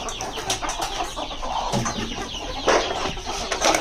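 Domestic country chickens cluck busily at feeding time in a backyard flock, a steady cluster of overlapping clucks and short calls with no voices over it.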